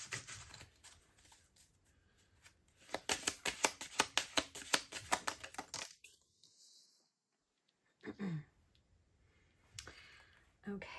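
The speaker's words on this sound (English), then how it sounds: "I'm going to go ahead and shuffle." A Thoth tarot deck riffled and shuffled in quick papery bursts of flicking cards, close and moderately loud, followed by a few brief card taps and handling sounds after a pause.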